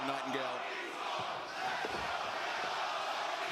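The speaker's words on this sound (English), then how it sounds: "the raucous crowd here in Atlanta" A large wrestling arena crowd in Atlanta roars and chants, a dense, sustained wash of cheering voices with a few louder shouts rising out of it.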